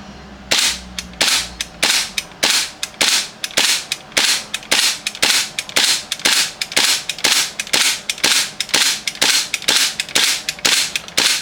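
A WE Desert Eagle airsoft pistol fires a long string of sharp, loud close-range shots at a steady rhythm of about two per second until the magazine empties, with no speech.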